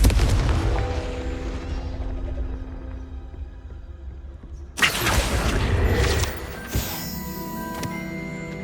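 Confringo fire spell in Hogwarts Legacy erupts with a loud, sudden burst of bright noise after a lower rumbling stretch, followed by crackling magical effects and tonal chimes that ring out and fade.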